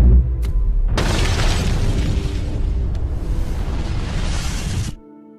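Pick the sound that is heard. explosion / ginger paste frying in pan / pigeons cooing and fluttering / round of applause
explosion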